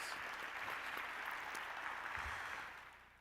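Audience at a university convocation faculty meeting gives quiet, distant applause that holds steady, then fades out near the end.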